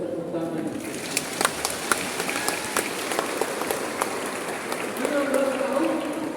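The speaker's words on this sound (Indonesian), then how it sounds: "Kita tepuk tangan." A church congregation at a Pentecost Sunday mass in Pontianak claps, scattered hand claps spreading through a large reverberant space at moderate distance, with voices murmuring underneath.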